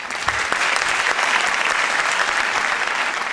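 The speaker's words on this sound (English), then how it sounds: "a round of applause for yourselves as well" Studio audience applause at the close of a youth parliament television show, dense continuous clapping from many people, steady and fairly loud throughout with no talk.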